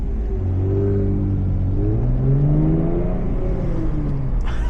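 A V6 Chevrolet Camaro accelerates hard while driving, its engine note rising through steady harmonics over a constant road rumble, loud and close from inside the car for the whole stretch.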